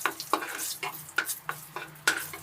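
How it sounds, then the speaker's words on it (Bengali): Dried red chilli and nigella seeds crackling in hot oil, with sharp sizzling bursts about every half second as the pan is stirred, close and fairly quiet, no speech. "এই তেলের মধ্যে আমি একটা শুকনো লঙ্কা আর হচ্ছে একটু কালো জিরে ফোড়ন দিলাম।"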